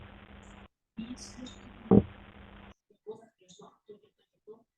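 A hydrophone recording from a spawning tank of meagre fish (Argyrosomus) holds one brief, loud, low grunt over a steady background hum, and a person talks afterward.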